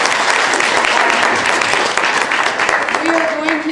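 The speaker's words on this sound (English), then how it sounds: "let's give Kendall another round of applause" Lecture-hall audience applauds a guest lecturer at a university extension talk, loud and continuous, with a voice emerging near the end as the clapping eases.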